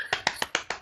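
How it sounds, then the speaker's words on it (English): A single person claps six times in an even, quick rhythm, each crisp, close slap standing alone in a quiet room. "That's me clapping."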